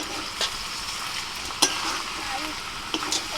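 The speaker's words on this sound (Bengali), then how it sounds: "মাংসটা খুব ভালো করে কষিয়ে নিয়েছি" Meat for a spiced kosha curry sizzles in a pan, a continuous close frying hiss with a few scraping stirs and light clinks of a utensil, no voices.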